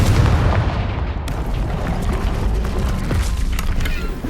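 A Confringo fire spell from Hogwarts Legacy bursts in a loud, dense blast with a rumbling, debris-filled roar that stays heavy and sustained throughout, with no voices.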